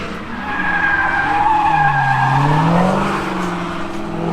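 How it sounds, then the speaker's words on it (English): Dodge Hellcats screech through skidding passenger rides at a Barrett-Jackson auction event, wavering tire squeals rising and falling over an engine roar, moderately close and continuous. "Looks like they're giving some people some rides in Hellcats."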